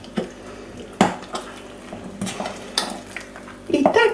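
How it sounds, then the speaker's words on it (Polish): Easter yeast babka dough is stirred together with lukewarm melted butter in a bowl, with intermittent knocks and scrapes of the utensil against the bowl. "dokładnie całość wymieszamy"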